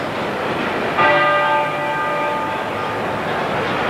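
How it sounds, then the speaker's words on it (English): A large bell of Westminster Abbey strikes once and its tone rings on and slowly fades, heard at a distance over a steady background hum. "You hear the bells of Westminster Abbey in the background."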